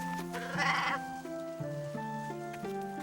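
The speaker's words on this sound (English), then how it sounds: "Once there was a shepherd with 100 sheep, but he lost one of them." A sheep bleats in a long, wavering, quavering call that is close and clear, followed by further drawn-out bleats with no talking over them.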